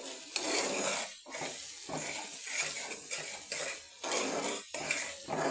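Garlic and panch phoron fry in pure mustard oil with a crackling sizzle broken by repeated clatters of a spoon stirring against the pan, close and fairly busy.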